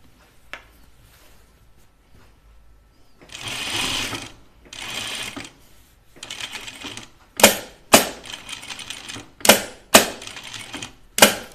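A sewing machine stitches bias binding around a curved edge in short, loud bursts of rapid mechanical clatter separated by pauses, with the later runs sharper and more clipped.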